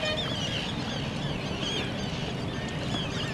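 A large flock of winter water birds at Lalpari Dam, a continuous chorus of honking and quacking calls carried over steady background noise, moderately distant and unbroken, with no talk.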